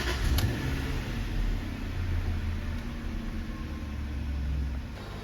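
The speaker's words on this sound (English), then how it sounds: "Now we start the engine." A Jaguar XJ engine idles steadily after starting, a continuous low rumble with broadband mechanical noise, fairly close and even throughout.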